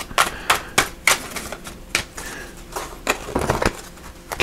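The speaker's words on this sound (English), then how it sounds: "So I'm giving it one more little shuffle here" Reading cards shuffled by hand in a card-reading session, sharp crisp riffling snaps in quick irregular bursts, close and fairly loud, with no voices.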